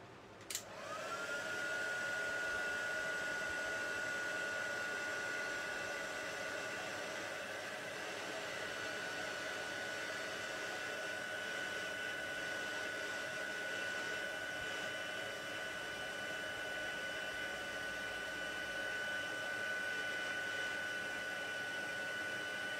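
A heat tool blows steadily for over twenty seconds to melt embossing powder in a craft demo, a loud continuous whooshing hiss with a steady whine, starting with a brief click and running alone without talk.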